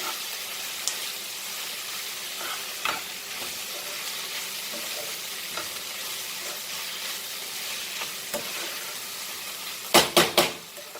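Goan pork sausages and okra (bhindi) sizzle and fry steadily in a pan while being stirred, with occasional soft scrapes and a quick burst of sharp clinks near the end.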